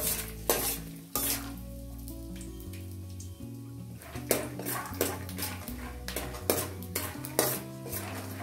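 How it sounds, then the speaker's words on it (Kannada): Peanuts roast in a little hot oil in a kadai, with a soft sizzle and repeated sharp clinks of a spoon against the metal pan, over background music. "ಕಾದ ನಂತರ 1 ಟೀ ಸ್ಪೂನಷ್ಟು ಎಣ್ಣೆಯನ್ನು ಹಾಕ್ಕೊಂಡು ಎಣ್ಣೆ ಕಾದ ಮೇಲೆ ಶೇಂಗಾ ಬೀಜ 1/4 ಕಪ್ಪು ಶೇಂಗಾ ಬೀಜ ಹಾಕ್ಕೊಂಡು ಇದನ್ನ ಒಂದು ಸ್ವಲ್ಪ ಹೊತ್ತು ಹುರ್ಕೋಬೇಕು"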